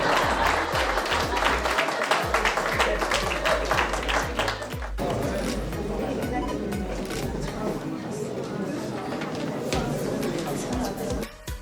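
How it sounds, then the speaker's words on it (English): Applause at a staff recreation and recognition day, with a few loud close claps over a broad crowd clap that continues steadily, while people murmur and chatter underneath. "Give a round of applause for Father"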